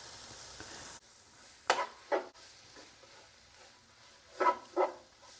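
Garlic sizzles with onions in a frying pan, a quiet steady crackle broken by a few louder bursts of stirring and spatter.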